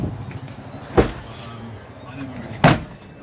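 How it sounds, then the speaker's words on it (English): The door of a 2022 Swift Ace Jubilee caravan is shut, producing two sharp, loud thuds about a second and a half apart, close by, with a quiet interior between them. "So shut the door so you can hear me properly."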